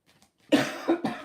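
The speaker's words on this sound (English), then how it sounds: "Excuse me, still got my cough." A couple of harsh, close coughs in quick succession after a brief quiet moment.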